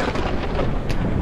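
Heavy rain pours steadily in the survival game SurrounDead, a dense broadband roar with low rumbling thunder underneath and a brief bright crackle near the end, loud and continuous with no talking.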